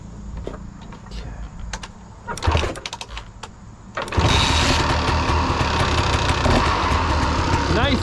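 A two-stroke engine turns over after some handling clicks and rattles, then catches and settles into a loud, steady, buzzy idle that holds to the end. Someone speaks briefly before the start.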